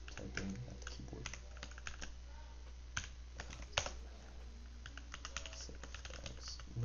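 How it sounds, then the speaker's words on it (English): Rapid, uneven clacking of a computer keyboard as someone types steadily at a desk, close and fairly quiet, with irregular bursts of keystrokes. "3 of them are typing at the keyboard"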